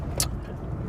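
Low, steady engine drone of a 1992 Rover Metro 1.1S while driving, heard from inside the cabin, with a brief hissing burst near the start.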